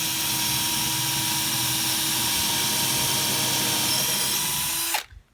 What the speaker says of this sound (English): So the first step is to drill pilot holes